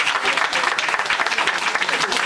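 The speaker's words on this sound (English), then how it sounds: "you can give her a nice warm round of applause" A crowd gives a warm round of applause for a councilwoman at a Black History event, dense steady clapping filling the short moment, close and loud.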